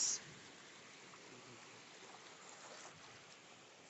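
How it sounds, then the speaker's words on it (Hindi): Sea waves wash in over bare feet at the shoreline, a steady broadband surge and hiss of water that swells briefly and then settles into a continuous, moderately near wash with no talking. "एक और लहर आ रही है, इस लहर के साथ साथ चलते हैं।"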